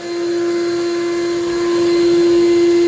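A powerful Air-Vac central vacuum motor in a garage runs steadily and loudly up close, a constant whirring drone with a sharp tonal hum throughout.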